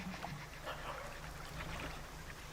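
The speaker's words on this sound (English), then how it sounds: "Bark again, little doggy." A small dog barks and whimpers in a deep-sea fishing video game, brief soft yelps over a steady low hum of the boat's engine and water ambience.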